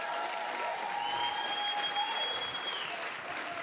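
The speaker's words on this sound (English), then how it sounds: "Give him a round of applause." Audience applause fills a graduation celebration, a dense steady wash of many hands clapping throughout, with faint whistles or cheers rising over it.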